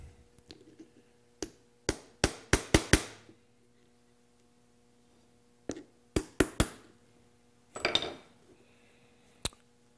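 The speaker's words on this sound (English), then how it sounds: "let me get a little hammer here" Small hammer taps pins into a wooden pentagon shadow box: sharp, close knocks in quick bursts of three to five, separated by pauses, with faint handling noise between.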